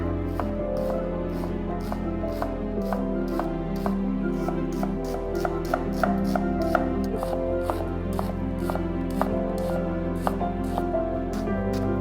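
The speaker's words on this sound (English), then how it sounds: "One onion, finely chopped." A knife finely chopping an onion on a cutting board, producing a steady run of crisp, close taps over faint kitchen background hum.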